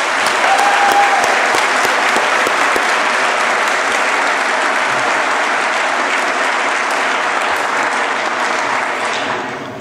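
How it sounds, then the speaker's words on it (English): An audience at a community salute-to-service event applauds military guests, producing loud, sustained, even clapping from a large crowd for nearly ten seconds before it starts to fade. "Please join me in a round of applause for our guests."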